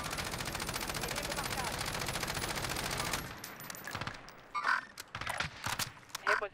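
Automatic gunfire in Call of Duty: Warzone, a long rapid burst of shots rattling loudly for about three seconds, then stopping abruptly, followed by a few scattered single shots and sharp game sounds.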